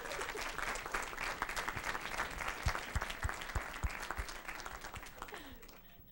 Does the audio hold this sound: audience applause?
yes